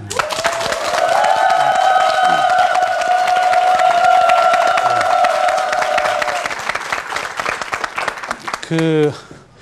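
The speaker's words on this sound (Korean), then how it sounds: "여러분들의 뜨거운 박수로 이재만 변호사의 강의 문을 열겠습니다" Warm studio-audience applause opening a lawyer's lecture on love and divorce on a Korean TV talk programme; loud, sustained clapping with some cheering over a bright sustained musical tone, fading near the end.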